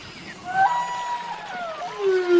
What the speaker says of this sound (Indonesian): ini paus teman-teman.